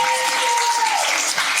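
Audience applause fills a comedy club in a steady, dense wash of clapping that runs unbroken and fairly loud throughout, with no voices over it.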